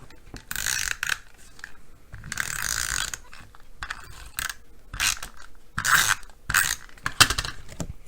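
An adhesive dispenser laying down regular adhesive, making bursts of dry ratcheting clicks in an uneven rhythm of several short runs, close and fairly loud, with no voices.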